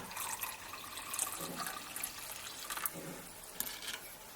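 Hot water poured from a kettle into a glass holding whiskey for a honey-lemon hot toddy, a steady liquid splash and trickle running throughout at moderate volume, with no one talking.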